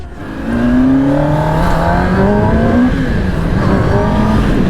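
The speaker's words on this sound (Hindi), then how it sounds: "इधर तो बहुत ज्यादा ट्रैफिक है।" Heavy road traffic heard from a motorcycle, with a steady engine drone and rising and falling tones from vehicles nearby, loud and continuous throughout.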